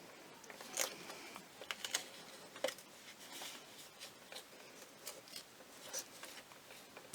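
Scored card stock being folded along its score line, with faint crisp paper creases and a few soft clicks scattered over a quiet background.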